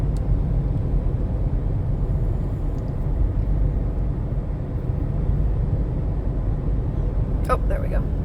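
Steady low rumble of road noise inside a moving car on a daytime drive, a constant close drone with no breaks and a brief faint voice near the end.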